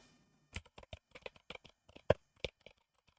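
Someone types a search into a browser on a computer keyboard. About a dozen crisp, close keystrokes come in uneven bursts, with no other sound around them.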